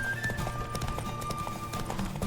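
Horse hooves clip-clop steadily and close in The Witcher 3, a quick rhythmic patter of galloping over a continuous game soundscape with music, lasting a couple of seconds.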